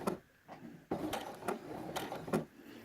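A sewing machine stitches a blanket-stitch appliqué on a quilt, sounding in short mechanical bursts of clicking and whirring separated by brief pauses, close and fairly loud, with no voices.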